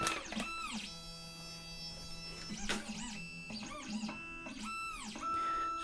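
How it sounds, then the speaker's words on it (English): A Condor Dolphin key cutting machine with an M5 clamp hums and whirs as it cuts a key, giving sustained motor tones that rise and fall in pitch, with brief pauses between passes. "It's just going to cut the key."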